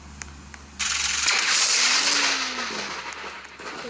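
Machine gun fire in a video game, a dense burst of rapid shots that starts abruptly and continues for a few seconds, loud and close, tapering slightly toward the end.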